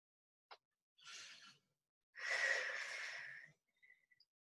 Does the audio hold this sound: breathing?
yes